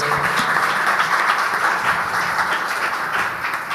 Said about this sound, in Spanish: aplauso a Jesús nuevamente